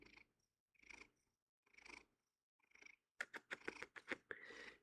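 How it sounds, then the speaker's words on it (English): Close, rhythmic purring in slow breaths at first, then a faster, louder rumbling run of purrs. "Oh, he's purring up a storm."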